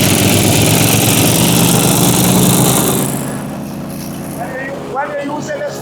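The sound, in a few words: wood chipper engine throttled up to full power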